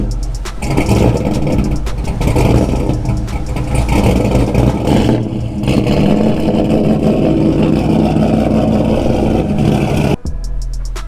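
An abandoned Dodge Charger police car's engine runs loud and close, revving unevenly with rough mid-range roar and brief dips, then cuts off abruptly near the end.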